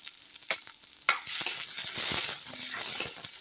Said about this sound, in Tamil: இது கூட இப்போ வெங்காயத்தை சேர்த்துக்கலாம்